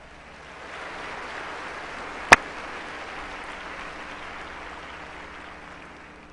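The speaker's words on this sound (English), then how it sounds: "Give yourselves a round of applause." An audience at a speech in Detroit gives a round of applause, a dense, even wash of clapping that swells and holds, with one sharp loud click early on.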